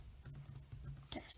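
Keys clacking on a computer keyboard while a username and password are entered during Windows setup on a Chromebook, a quick run of close, light taps with a low hum underneath.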